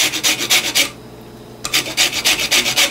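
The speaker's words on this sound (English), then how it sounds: "you're just gonna just rub it on the grater like this" A lemon rubbed against a metal kitchen grater to remove its zest, giving rhythmic bursts of close, bright rasping strokes, a short pause, then another run of quick strokes.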